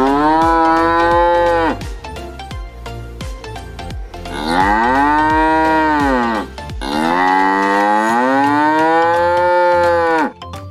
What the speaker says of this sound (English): Cow. This is cow.